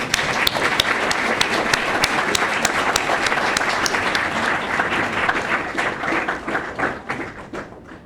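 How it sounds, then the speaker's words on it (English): Loud, dense round of audience applause for volunteers at a WZCC global conference session, steady and crowded throughout with a few sharper claps standing out, thinning slightly toward the end. "we should give them a big round of applause"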